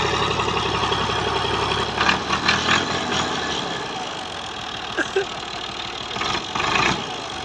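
New Holland tractor engine running steadily up close, a continuous mid-pitched rumble with a few brief surges as it is revved, voices faintly audible beneath.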